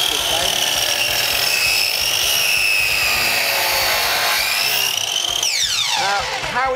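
A Rigmaster 10-inch compound mitre saw cuts a bevel through skirting board: a loud, continuous whining blade roar that runs steadily throughout and winds down near the end, with no talk over it.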